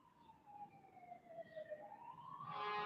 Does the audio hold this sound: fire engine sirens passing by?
yes